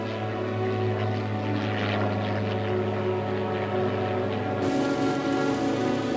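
A powerful vintage propeller aeroplane engine drones steadily in flight, a continuous loud hum with layered harmonics and a rough, crackling edge, shifting in tone near the end.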